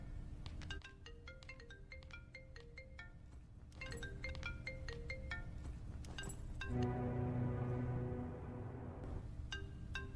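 A mobile phone ringtone announces an incoming call, playing a bright repeating melodic pattern of chiming tones in bursts, with a sustained tonal passage in the middle and background music underneath.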